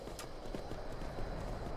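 A horse in the video game Skyrim climbs a mountain, its hooves clip-clopping in a steady rhythm, fairly soft beneath a constant wash of game ambience.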